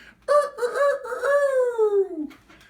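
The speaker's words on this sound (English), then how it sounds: "the rooster would wake them up with a" A rooster crows once, close and loud, one long drawn-out call that falls in pitch at the end.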